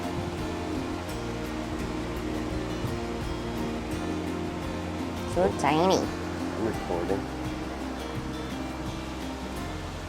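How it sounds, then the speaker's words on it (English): Electric fan running outdoors on a humid day in a Georgia garden, giving a steady, rushing whir like surf that lasts throughout, under someone speaking briefly. "Sorry about the fan noise"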